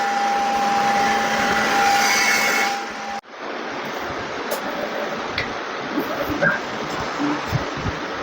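A Creality K1 3D printer's fan runs with a loud steady whoosh and a tonal whine for about three seconds, then cuts off abruptly, leaving quieter clicking and machine ticks with a voice talking faintly.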